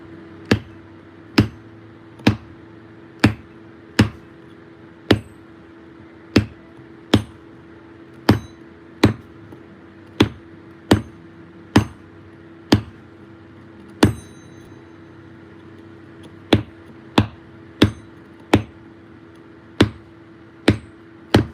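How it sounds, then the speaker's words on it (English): Steady hammer blows on a steel chisel carving a stone sculpture, sharp metallic strikes repeating about once a second with a brief pause midway, close and clear over a faint background hum. "I should have moved up the size of the chisel now."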